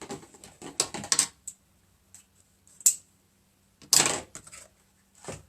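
Scissors snipping a piece of greenery for a winter wreath, several sharp close crunches and clicks in uneven bursts separated by quiet pauses.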